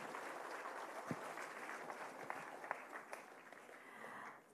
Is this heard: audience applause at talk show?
yes